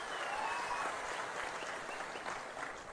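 Steady applause from a rally crowd at a tribal day event in Paderu, a dense continuous clapping heard from a distance, fairly faint, with no speech.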